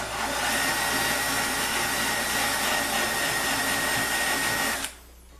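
Power sander shaping a wooden pool cue rack, a loud steady whine and rough abrasive hiss running continuously close by, then cutting off abruptly near the end, with no talking.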